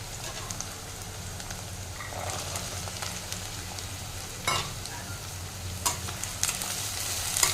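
Chopped onion, potatoes and peas fry in a pan, a continuous close sizzle broken by occasional sharp stirring scrapes and clinks.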